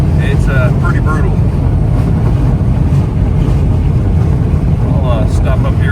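A van pushes into a strong Alaskan headwind, heavy low wind rumble and road roar buffeting the microphone throughout, loud and continuous, with faint voice-like tones drifting over it.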